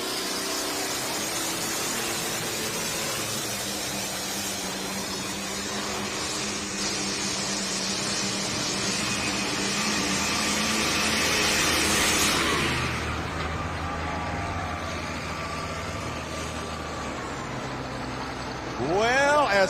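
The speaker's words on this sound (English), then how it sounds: "Old classic cockshut tractor called Fat Chance." Old Cockshutt tractor named Fat Chance at a tractor pull in Rock Valley, Iowa, its engine roaring loud and steady under a crowd, swelling near the end of the run before dropping away, with an announcer's voice over it.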